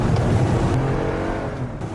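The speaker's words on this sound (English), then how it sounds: "they make an editing error that makes it look like the car's engine is revving dramatically" A car engine revs loudly and dramatically with the car sitting in park, a continuous close roar of engine noise with no voices.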